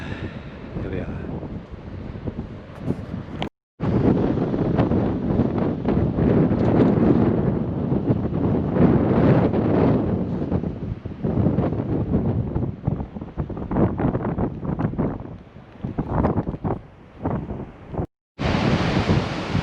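Strong wind buffets the microphone while surf rolls onto the beach at Dawlish Warren, South Devon, a loud, gusty, continuous roar that briefly cuts out twice.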